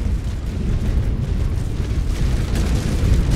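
Naval guns firing in a warship battle game, a rolling, continuous rumble of heavy booms and blasts, loud and sustained without clear breaks, with no talk over it.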